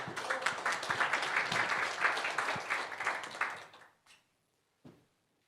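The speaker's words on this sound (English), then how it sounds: "It's a round of applause for the panel" Audience applause for a panel session at a conference fills the room with steady, moderately loud clapping that fades out after about four seconds, followed by silence and one soft thump.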